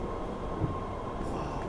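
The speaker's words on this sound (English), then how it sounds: "This is the first subway train in the morning." Interior rumble of the first morning subway train riding along the tracks, a steady loud roar with a faint metallic squeal and brief wheel knock.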